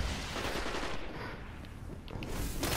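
Gunfire from the Destiny video game, a dense continuous burst of rapid shots that runs throughout, fairly loud and without speech.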